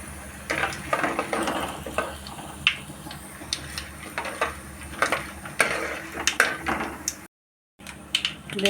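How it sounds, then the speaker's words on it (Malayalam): Mustard seeds with dried red chillies, crushed garlic and curry leaves in hot oil over low heat for a tomato pickle, crackling in sharp irregular pops and sizzles alongside spoon stirring and pan clinks, with a brief silent gap near the end. "കടുക് പൊട്ടട്ടെ."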